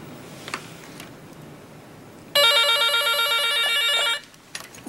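A telephone rings with one loud electronic trilling burst lasting nearly two seconds in an otherwise quiet room, with no one speaking.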